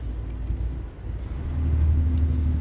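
Engine brake on a heavy truck in American Truck Simulator, a loud, low droning rumble that deepens and swells toward the end, heard alone without talk.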